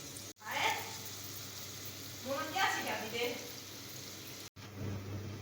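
Chopped onions and chillies fry in a pan with a continuous sizzle, while a person talks over it in two short stretches and a brief cut breaks the sound twice.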